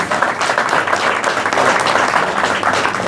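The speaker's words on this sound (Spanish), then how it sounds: "Fuerte el aplauso para ellos." A crowd applauds continuously at an evening regional rally event in La Tordilla, dense clapping filling the whole stretch at steady volume with no talking.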